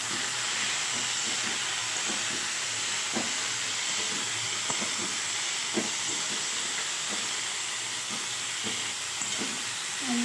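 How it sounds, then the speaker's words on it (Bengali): Potatoes fry in oil in a kadai with chopped onion, garlic paste, ginger paste, turmeric, cumin and chili powder for ghugni, giving a constant loud hissing sizzle with faint scattered pops and stirring. "আলু কটা ভালো করে কষিয়ে নেব।"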